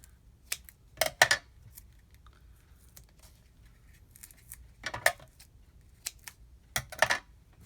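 Adhesive tape is pulled from a roll and pressed onto a large die-cut paper piece for a slimline card scene. Several short, sharp rasping rips come at intervals in a quiet room, with no talk.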